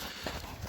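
Hooves of a tall four-year-old horse clop in a brief, uneven pattern as it walks, faint and close, with no voices over them.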